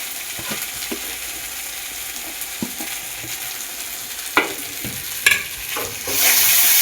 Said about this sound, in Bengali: এবার দিয়ে দেবো গুঁড়ো লঙ্কা হলুদ গুঁড়ো দিয়ে দেবো